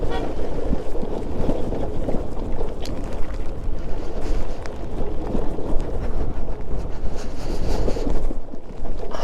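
Strong, cold wind buffeting a motorcycle rider on a rain-soaked Himalayan mountain road from Sach Pass toward Tandi, a steady loud roar of gusts across the microphone with rumbling engine and road noise throughout, no talking.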